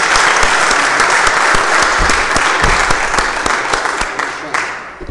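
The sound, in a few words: applause saluting the national flag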